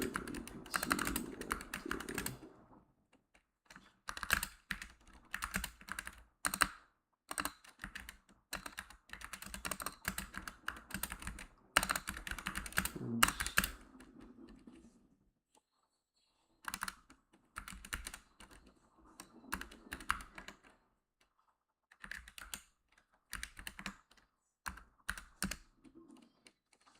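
Computer keyboard typing terminal commands in bursts of rapid keystrokes separated by brief pauses, close and fairly loud, with no talking.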